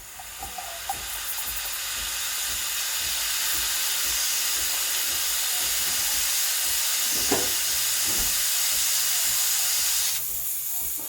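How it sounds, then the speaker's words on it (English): Powerful steam wand on a Breville Barista Express BES870BKS espresso machine steaming cold full cream milk in a half-filled jug, a loud steady hiss running continuously close up, with brief gurgling bursts and the sound cutting lower near the end. "Very powerful steam, and it doesn't take too long to start the steam."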